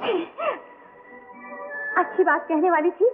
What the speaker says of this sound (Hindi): छींक आ गई।